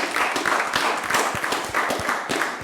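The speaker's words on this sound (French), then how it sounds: "J'aimerais qu'on applaudisse pour ça," An audience breaks into sustained applause, a dense, even patter of many hands clapping at close range, with faint voices mixed in.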